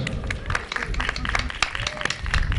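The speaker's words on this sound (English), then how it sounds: "And a big round of applause for Bruce for putting us on." A festival crowd at the Zeitgeist Media Festival in Alton, 2011, claps for a band's guest, a dense, steady patter of many hands with voices and crowd murmur mixed in.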